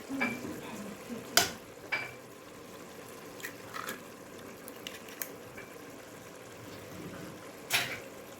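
Eggs are stirred into a chicken pastilla filling in a pot, giving soft, quiet scraping and wet stirring with a few sharper clinks spread over a low steady background.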